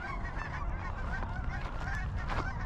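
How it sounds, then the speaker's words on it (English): Several geese honk repeatedly, their calls overlapping above a steady low rumble of background noise outdoors. "Geese are out this morning."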